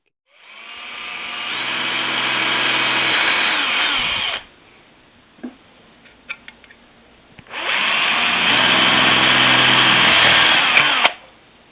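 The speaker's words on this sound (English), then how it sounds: "okay, so all the holes are drilled out" A power drill bores holes in a car part in two long, loud, steady whining runs, with a pause between them filled by a few small clicks and knocks.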